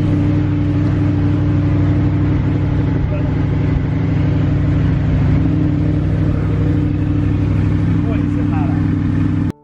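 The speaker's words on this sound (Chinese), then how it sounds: "发动机的运行声音听着很健康" An Audi R8 mid-engine two-seat supercar, bought at auction over ten years old, runs steadily outside a garage after repair work. Its loud, close engine drone holds unbroken for nearly ten seconds, then cuts off abruptly.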